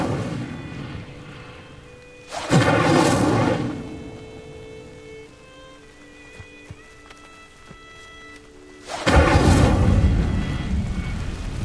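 Two loud, broad whooshing bursts of magical fire flare up in Hogwarts Legacy as the Incendio spell ignites dry vines, each roaring for about a second and a half with quieter ambient hum between them.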